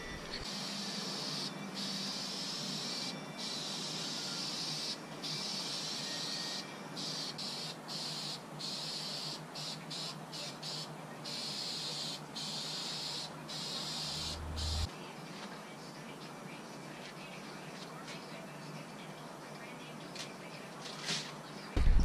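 VHT Wrinkle Black paint spraying from an aerosol can onto a valve cover in heavy coats: a continuous soft hiss with short sputtering pulses, steady and close, with no talking.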